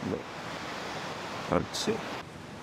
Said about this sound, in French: Écoutez le bruit des vagues, là. Là, on arrive à la plage.